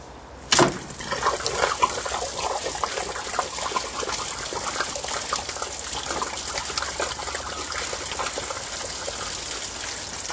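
Radiator coolant drained from an old wagon onto the ground outdoors, a sudden release becoming a steady splashing gush of water that runs on continuously.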